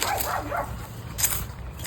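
A dog in a home gives a couple of short, sharp barks with a yip-like edge, close by, over faint background noise.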